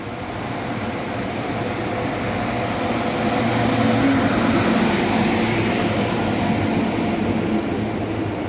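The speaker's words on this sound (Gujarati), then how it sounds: "ટ્રેન અહીંયાથી ગાંધીનગર કેપિટલથી ઉપડે છે વડનગર જવા માટે" Steady rumble and rolling clatter of superfast train no. 20959 running daily from Gandhinagar Capital to Vadnagar, a continuous close wash of noise with no talk.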